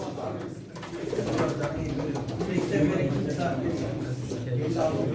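Pigeons coo softly in the background at a pigeon auction in Çorum while an auctioneer and bidders talk steadily over them in a busy room.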